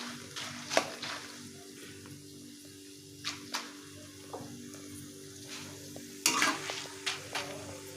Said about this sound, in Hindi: मक्की चिप्स फ्राई हो जाएगी हमारी।